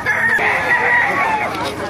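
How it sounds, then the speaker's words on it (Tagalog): Gamefowl roosters, including white Kelso birds at the Baliuag market, crow in a long sustained call over a busy, noisy background. "Ganda ng mga manok."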